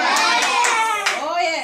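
A group of children clap a few scattered times during a prayer gathering, the sharp claps partly buried under loud, overlapping children's voices.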